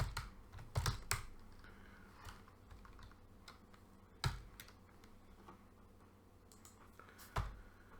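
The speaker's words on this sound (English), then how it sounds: "pardon the typing" Keyboard typing in quick, irregular bursts of clicks, with a few louder key strikes standing out, fairly close and otherwise quiet.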